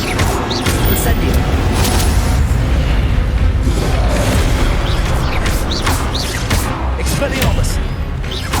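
An Incendio fire spell cast in Hogwarts Legacy, a dense roaring whoosh of flame with booming bursts that holds loud and steady throughout, with a voice speaking over it.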